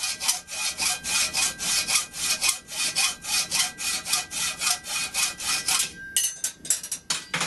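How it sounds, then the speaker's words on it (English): A hacksaw cuts through steel stock held in a vise to make homemade forged spikes about five inches long, giving a steady back-and-forth rasping stroke rhythm, close and loud, that stops briefly near the end before a few final strokes. "I'm just taking the hacksaw,"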